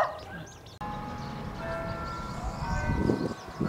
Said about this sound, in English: We greet you with church bells.